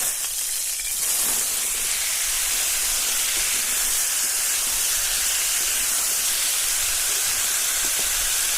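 Elephant foot yam pieces, salted and drained, fry in hot mustard oil in a kadai, giving a loud, steady broadband sizzle and hiss that runs unbroken throughout with no talking.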